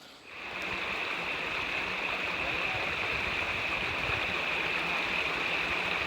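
A river flows steadily near a campsite, a constant close rushing wash that fades in at the start and then holds even, with no talk.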